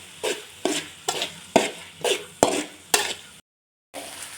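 A spoon stirs egg curry in a pan in seven evenly spaced scraping strokes with a sizzling undertone, then a short silence before one more stir begins.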